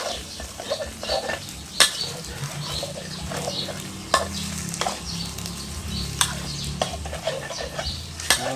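Fried rice is stirred in a hot pan or wok, a spatula scraping and clacking against the metal in repeated strokes with sharp knocks, over a steady sizzle, close and moderately loud, with no talk.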